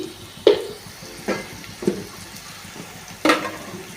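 Spices being stirred in a pan for a Kerala-style chicken curry with coconut milk: four soft scraping strokes at irregular intervals over a quiet background, close and moderately faint, with no talk.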